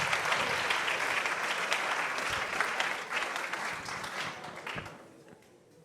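Clapping from a school playback show audience, loud and sustained crowd applause that holds strong, then tapers away near the end, with no voices on top.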